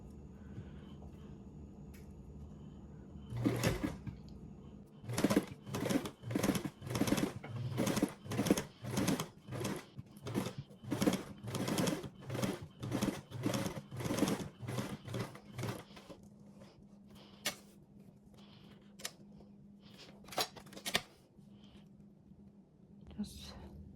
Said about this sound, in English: making sure that my stitching is straight